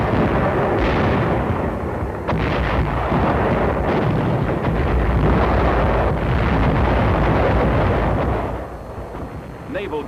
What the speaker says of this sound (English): Our artillery fired at the capital.